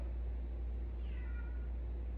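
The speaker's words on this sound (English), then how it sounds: "She hears kitty." A single cat meow rises faintly in the middle of a steady low household hum inside a new house's living area, brief and somewhat distant, with no talking.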